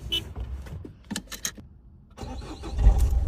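A used Peugeot 307 estate car with about 160,000 km on it is heard up close. Quiet clicks and handling noises come first, then the engine starts and settles into a steady, low rumble.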